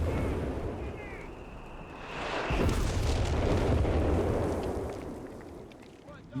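Artillery in the game Company of Heroes 3 rumbles in heavy, overlapping booms that swell into a sustained roar, with a commentator talking over the battle.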